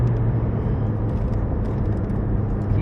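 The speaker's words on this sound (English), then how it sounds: "And then back through the chicane, braking, changing down." A car braking and shifting down through a circuit chicane, its engine a steady, close, loud rumble that never breaks or fades.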